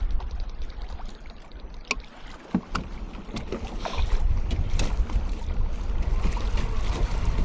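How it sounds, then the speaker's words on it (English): A fishing boat's motor on open water starts up partway through, its low drone rising to a steady rumble after a few knocks and clatters, with wind buffeting the microphone. "Let's turn our motor on."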